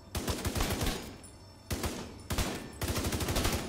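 Rapid automatic gunfire from The Division 2 video game crackles in three loud, dense bursts with brief gaps between them.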